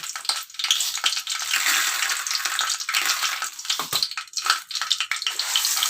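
Dried red chillies crackling and spluttering in hot ghee for a dal khichdi tempering, a loud continuous sizzle with sharp pops and a brief stir partway through.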